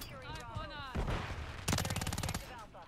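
Rapid pistol fire from a Renetti in Call of Duty MW3 multiplayer, a tight burst of quick, loud shots after a short louder blast, with voice chat and game sounds around it.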